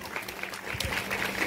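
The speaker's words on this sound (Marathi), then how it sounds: "याच्यासाठी एकदा जोरदार टाळ्या वाजवा." Audience applause at a Navratri festival Home Minister Paithani game event in Yavat, a short burst of steady clapping from a crowd with some background voices.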